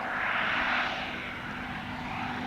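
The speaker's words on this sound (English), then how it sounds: "Under the power, as I said, of the 275 horsepower Rolls-Royce Falcon 3 engine." Rolls-Royce Falcon 3 engine of 275 horsepower pulling a Bristol F.2B Fighter biplane at an airshow, a steady loud droning roar that swells briefly then holds evenly, with no voices.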